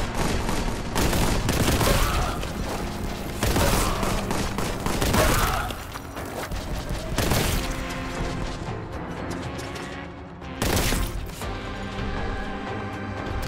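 Heavy gunfire from the shooter game Warhammer 40K Boltgun sounds loud and close, with dense bursts of repeated shots and crashing impacts that come in waves with short pauses between them.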